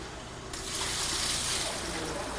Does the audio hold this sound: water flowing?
yes